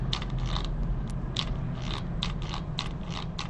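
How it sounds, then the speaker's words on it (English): A hot glue gun that has been acting up is handled, giving a run of small clicking and ratcheting mechanical snaps, close and fairly quiet, with no talk. "So I'm bringing out my trusty hot glue gun"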